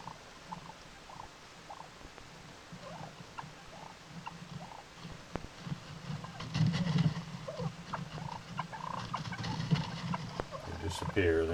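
Wild turkeys softly purring and clucking to each other outdoors, faint and intermittent calls over low rustling background, with a few louder bursts later.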